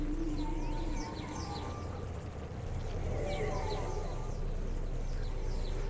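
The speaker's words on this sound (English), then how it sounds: "Inside the trees there's like bird noises." Bird calls chirping among the trees in the video game Darwinia, repeated short twittering phrases over a steady low ambient hum, moderately close and continuous.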